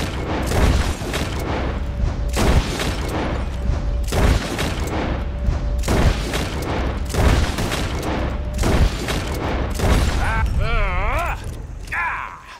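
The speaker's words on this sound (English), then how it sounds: "Whoever shoots the most bottles wins, okay?" Rapid gunshots crack out as shooters fire at bottles in a Red Dead Redemption 2 shooting contest, loud sharp reports in a quick, repeated series with brief pauses between bursts.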